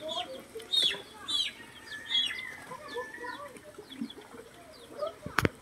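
Chickens in a coop give soft, scattered clucks and chirps, with a brief flutter or knock near the end and no talk.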